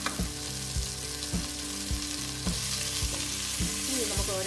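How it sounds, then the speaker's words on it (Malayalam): Onion, ginger-garlic paste and green chili sautéing for paneer tikka biryani, with a dense continuous sizzle and regular spatula strokes roughly every half second, loud and close. "സവോളയിട്ട് വഴറ്റി ഇഞ്ചി വെളുത്തുള്ളിയും പേസ്റ്റ്, പച്ചമുളക്, ഇതെല്ലാം കൂടി ഇട്ട് നമുക്കൊന്ന് വഴറ്റിയിട്ട്"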